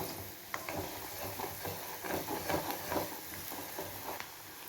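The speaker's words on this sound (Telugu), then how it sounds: "ఆనియన్స్ వేగే వరకు ఉంచండి" Onions frying in a pan for an egg, gongura and tomato curry, a soft continuous sizzle with occasional stirring clicks, close and fairly quiet with no talk.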